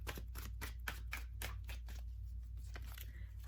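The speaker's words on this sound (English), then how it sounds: "Gonna keep shuffling." Soft riffling and light slapping of tarot cards being shuffled, quiet and close, over a low steady hum.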